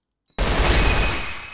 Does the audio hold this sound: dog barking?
no